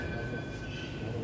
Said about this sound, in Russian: Так, когда отправится поезд?